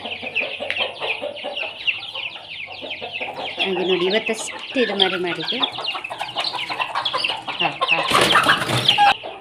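Native fighting chickens kept on a country-chicken farm cluck steadily at a distance, several birds overlapping, while someone talks over them.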